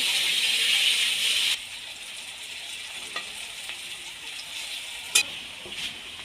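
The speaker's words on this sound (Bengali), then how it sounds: "তার মধ্যে একশো গ্রাম ভেজে নিচ্ছি আর পঞ্চাশ গ্রাম রেখে দিয়েছি দিয়ে ভালো করে ভেজে নেব" Chopped onion frying in a pan, a loud bright sizzle for the first second and a half that then drops to a softer steady hiss with occasional scraping clicks from stirring.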